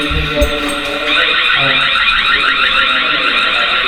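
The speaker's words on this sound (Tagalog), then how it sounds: "Hindi na tinigil yung alarm." A loud electronic alarm rings steadily at a building site, a continuous warbling tone that swells in after a second and carries on without pause, with low background noise beneath.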